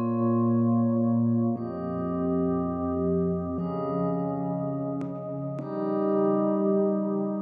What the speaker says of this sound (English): We have these Rhodes chords, which are the Rhodes sounds. I'm getting these from Omnisphere. It's like it's the Rhodes keyboard,